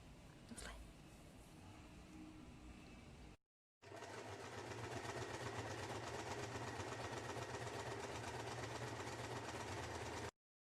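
Sewing machine stitching a baby romper, a fast, even mechanical whir running close, with a short quiet gap partway before the stitching resumes and carries on steadily.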